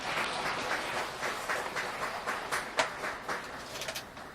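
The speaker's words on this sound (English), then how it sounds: "Let's give them a big applause for their wonderful reports and for sharing their wisdoms and experiences" An audience at the 2020 World Conference on Science Literacy in Beijing claps steadily, a fairly faint, even wash of applause that tapers slightly toward the end.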